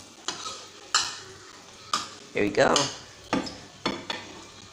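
Dumplings and mackerel fry in a pan, with sharp utensil scrapes and stirring clatters repeating every second or so over a low sizzle, while a voice speaks briefly.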